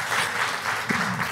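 Brief burst of congregational applause at a Spanish-language church service, a soft wash of scattered clapping from a modest crowd heard for just over a second, somewhat distant and moderately quiet.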